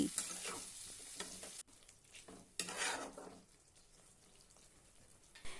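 Masala frying with a splash of water in a pan sizzles loudly while a spoon stirs it, giving bursts of scraping and hissing that ease off into a quieter steady sizzle.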